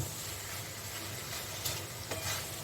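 Vegetables frying in hot oil in a pan for a spicy drumstick chorchori, a steady close sizzle with stirring scrapes and a couple of sharper clatters near the end, no speech.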